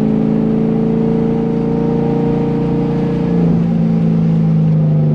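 A cammed C5 Corvette Z06 accelerates hard from inside the cabin, its engine note droning loudly and climbing, then shifting pitch partway through as it chases another car. No one speaks.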